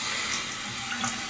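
Tap water running steadily from a faucet to wet a wig, a close, continuous hiss and splash that fills the whole short stretch.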